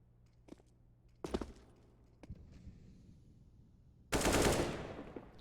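Gunfire in Counter-Strike: a few separate sharp shots ring out, then a louder burst closes the stretch, with shots whizzing past the player. No one speaks over it.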